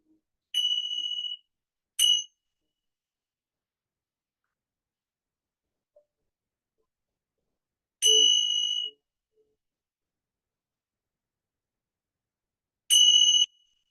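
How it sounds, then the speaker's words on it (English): Mindfulness bells chime in clear, bright single strokes that ring and decay into silence, with two early strikes close together, one longer ring later and a final strike near the end. "we're going to sound the bells 3 times until you can't hear it anymore"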